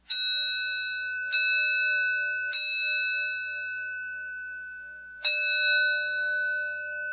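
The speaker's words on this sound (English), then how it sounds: "Kind of sounds like a ship's bell." Four clear metallic strikes of a triangle beater on metal, each ringing out with a long, bright, bell-like sustain like a ship's bell; the first three come evenly spaced, the last after a pause.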